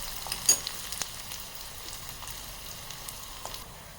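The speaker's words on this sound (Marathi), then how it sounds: "आपण कांदा घालूयात आणि छान गुलाबी रंगापर्यंत परतू यायचं" Chopped onion frying with green chillies in a pan, a soft steady sizzle heard close but quiet, with a few light stirring taps and clicks near the start.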